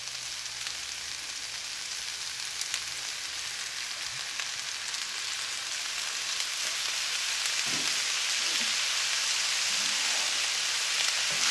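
Soy sauce sizzles in a hot pan, a steady bright crackling hiss that holds at moderate volume throughout, with a few soft low knocks near the end and no voices.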